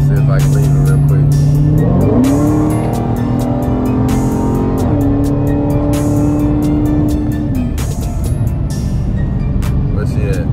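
A Dodge Challenger Hellcat accelerates hard through the gears, its loud supercharged engine whine climbing in pitch, dropping at each shift and climbing again, recorded from inside the car with some talk underneath.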